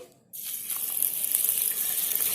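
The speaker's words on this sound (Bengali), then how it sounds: "ধানে জল দিয়ে দিচ্ছি" Water pours steadily onto paddy rice soaking in a large kadai-style pan, a continuous broadband gush that starts abruptly after a brief quiet moment and runs on close and loud.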